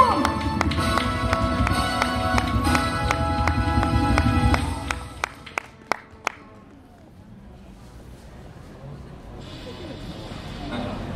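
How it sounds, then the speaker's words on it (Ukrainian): A crowd at an opening ceremony in Mukachevo claps in a loud, rhythmic burst mixed with voices and tones, then the applause breaks off into a few isolated sharp claps before falling to a quiet murmur. "Мукачево ще раз оплески!"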